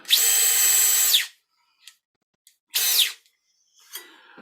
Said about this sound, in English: pre-drill for the insertion of the screw